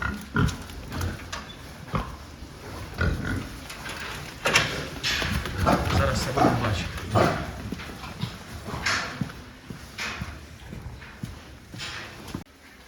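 Pigs grunt and snuffle up close amid hoof clatter and shuffling on a hard floor, with intermittent thuds.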